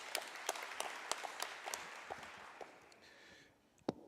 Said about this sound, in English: I think we really need a round of applause for that.